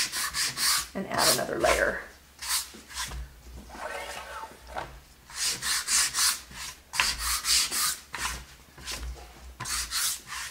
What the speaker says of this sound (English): A couple of scratches will blend it in